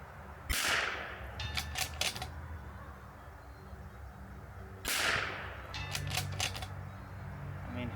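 Rimfire rifles firing at a precision shooting competition: two sharp distant shots several seconds apart, each followed by a quick cluster of faint metallic pings from steel targets, over an outdoor background.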